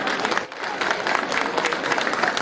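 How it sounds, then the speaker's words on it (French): Audience applause at a French association event, welcoming a newly introduced vice-president on stage: dense, steady clapping from a crowd, fairly close and sustained throughout, with no voices standing out. "Applaudissements"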